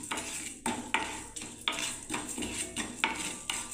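Whole spices dry-roasting on low heat in a pan for a mango chutney, a spoon scraping and clinking against the metal in quick repeated strokes over a soft sizzle, close and clear.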